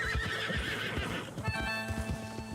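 A horse in Red Dead Redemption 2 neighs loudly and close, while hooves clip-clop in a quick, uneven rhythm beneath it; the whinny dominates the first part before the hoofbeats carry on.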